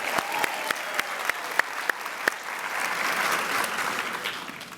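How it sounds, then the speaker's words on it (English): Audience applause at an NCSS Teacher of the Year event, a round of clapping that starts with a few sharp, spaced claps and swells into a dense, sustained ovation across the room. "let's give Debbie Harper, our membership director, a round of applause"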